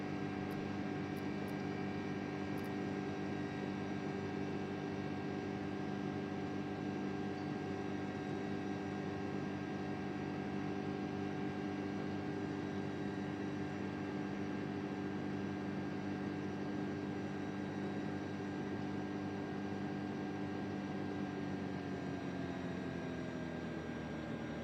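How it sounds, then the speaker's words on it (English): Steady jet airliner drone on final approach to a runway in Microsoft Flight Simulator 2024, a continuous engine hum with layered tonal whine holding level throughout, pitch sagging slightly near the end. "Okay, I'm landing on my runway."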